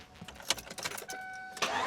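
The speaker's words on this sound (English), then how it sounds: "So we should be able to start the truck now." A truck engine cranks and catches on a jump starter, with a short series of crank bursts and a steady tonal whine before it fires up near the end.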